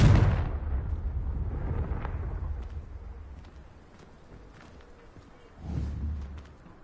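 Explosions from a Confringo blasting curse in a Harry Potter video game: a sharp, loud blast opens and rumbles as it fades, then a second, softer boom follows a few seconds later.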